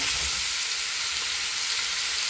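Steady, close sizzling of mushrooms hitting hot oil with garlic and onion in a pan of sea cucumber, a loud continuous hiss with faint stirring underneath and no talking.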